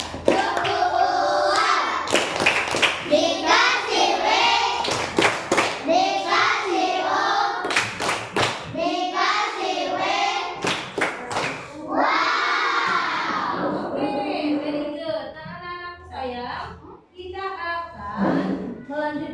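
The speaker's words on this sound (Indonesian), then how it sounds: "Yuk kita kasih tepuk tangan yuk." A fourth-grade math class claps in unison and cheers after a teacher's count-off, with rhythmic group clapping, children's shouts and chanting voices mixed with talk throughout.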